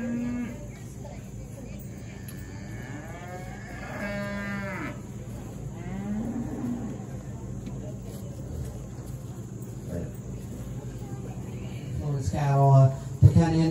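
Cattle moo at a 4-H youth heifer show featuring Angus and Brahman heifers, with several drawn-out lowing calls rising above a steady crowd and announcer hum while people talk throughout.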